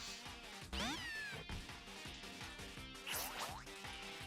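A cat Pokémon's synthesized meowing cry from the video game Pokémon Ultra Sun rises and bends twice over looping battle music, the second cry slightly louder, with no talking.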